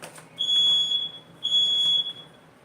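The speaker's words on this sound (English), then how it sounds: "That sound is just my smoke alarm" A household smoke alarm with a fault chirps in two long, steady high-pitched beeps, each about a second long, indoors and alone, with no talking.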